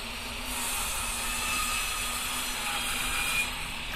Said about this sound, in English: Chainsaw it up.